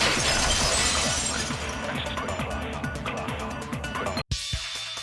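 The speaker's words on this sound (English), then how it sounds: "the girl heard the sound of the window shattering" A glass-shattering effect from the video game Danganronpa 2: a loud crash with ringing breakage over game music, ending abruptly in a sharp cut and a brief hit.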